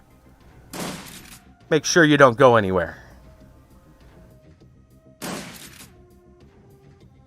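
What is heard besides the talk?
gunshots in a video game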